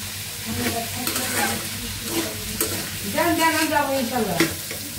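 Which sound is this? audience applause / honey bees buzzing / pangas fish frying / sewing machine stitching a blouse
pangas fish frying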